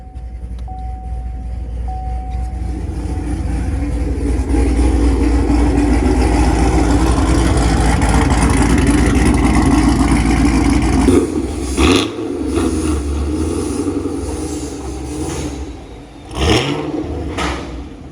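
A car engine with a Corsa Extreme exhaust rumbles loud and steady, with a deep idle and bursts of revving. It then drops off sharply and flares up again near the end.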